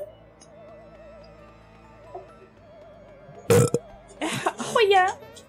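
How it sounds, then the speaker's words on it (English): A single short, rough bodily noise, likely a fart, cuts in over soft looping music from the Super Mario RPG game, followed by people talking and laughing. "Did you just fucking fart?"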